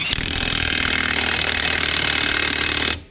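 An impact wrench tightens a bolt in one loud, continuous rattling burst of about three seconds that cuts off sharply, close up and with no voices.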